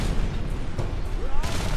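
A Space Marine Devastator from Warhammer 40,000 slams into the ground in a video game stomp attack, producing a dense, loud booming impact with gunfire-like crackle throughout a short burst.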